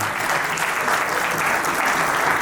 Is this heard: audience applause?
yes